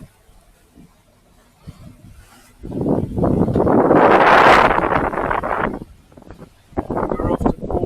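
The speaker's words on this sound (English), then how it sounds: "We're leaving this nice little anchorage as the wind's getting crazy." Strong wind buffets the microphone at a Mediterranean boat anchorage, building into a loud gusting roar in the middle, easing off, then gusting again.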